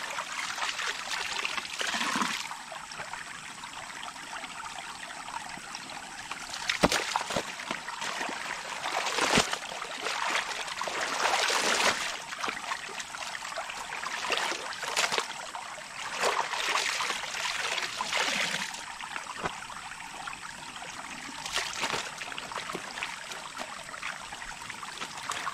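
River water flows steadily in a continuous soft rushing trickle, moderately close with no speech, rising and falling gently in intensity throughout.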